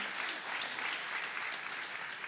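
Steady, dense applause from a concert audience, with continuous hand-clapping throughout and no breaks.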